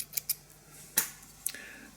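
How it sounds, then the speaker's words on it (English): Small, crisp scissor snips cut a short section of yellow egg yarn for fly tying, giving a few quick close clicks spread over two seconds in a quiet room. "So here I've got some yellow egg yarn, and I'm going to cut"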